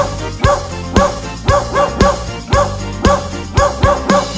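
A cartoon dog barks rhythmically in a Polish children's song, about a dozen evenly spaced woofs landing on the beat, loud and clear over bright backing music, with no singing heard in this stretch.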